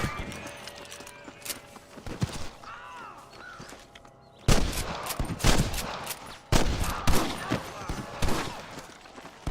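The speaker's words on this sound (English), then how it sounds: "can hear more gunshots." Rapid bursts of gunfire crackle in volleys in the video game Red Dead Redemption, some close and loud, others more distant, with the game soundtrack and hoofbeats underneath.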